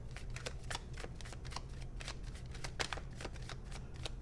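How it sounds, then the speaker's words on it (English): Tarot cards are shuffled over and over in quick riffling bursts, close and fairly quiet, with no talking. "One more shuffle."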